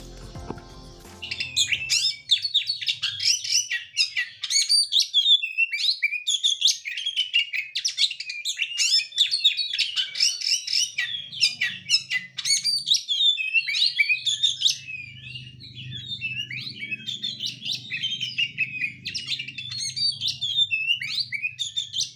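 An oriental magpie-robin (kacer) sings a loud, continuous run of bright, varied chirps and whistles close by, with a low rumbling background underneath.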